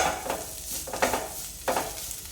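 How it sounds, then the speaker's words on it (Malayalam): Cooked soya chunks being stirred in a frying pan with spices for a pepper fry, close scraping strokes in an uneven rhythm over a steady sizzle, no talking. "വേവിച്ച് വെച്ചിരിക്കുന്ന സോയ ചങ്ക്സ് മിക്സ് ചെയ്യാം."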